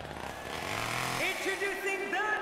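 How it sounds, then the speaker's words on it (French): A chainsaw's buzzing engine drones steadily in the background of the video game WWE 2K17 while a person talks over it. "On entend encore la tronçonneuse."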